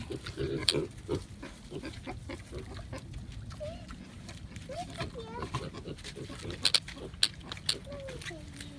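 Pigs grunt and snuffle close by while eating grass, with irregular oinks and rustling throughout. People talk over the sounds.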